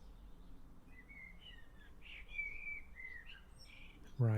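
Pet birds chirp and tweet softly in the background of a quiet room, a string of short, thin calls repeating on and off, with a louder close sound at the very end.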